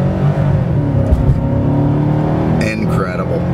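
A 2006 Maserati GranSport engine in sport mode holds a loud, deep droning growl from inside the car, easing slightly as someone speaks over it near the end.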